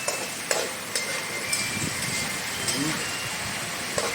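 Balbacua ingredients stirred in a hot pan give a steady, fairly loud sizzle with occasional sharp spatula clicks against the metal, and a voice murmurs faintly underneath.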